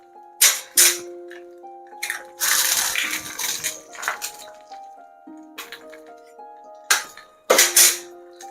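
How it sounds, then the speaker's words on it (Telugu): Five eggs cracked one after another into hot ghee in a kadai for chicken fried rice, giving a series of sharp shell clinks and taps, with a burst of sizzle in between and a soft tonal hum underneath. "సో 5 eggs అందులో వేసుకునేసాను."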